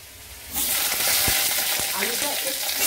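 Potatoes drop into hot oil in a wok, and a sudden loud sizzle bursts up and then holds as a dense, close crackle with a few soft knocks.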